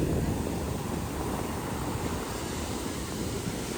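Rough sea waves at Dwarka make a dense, continuous roar of surf mixed with wind, loud and close, with no speech.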